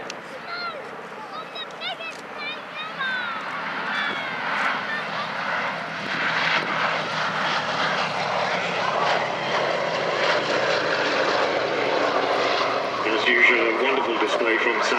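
B-17 Flying Fortress 'Sally B' displays at the Duxford air show, its piston engines building to a sustained rumbling drone as it flies past, with a commentator talking over the top throughout.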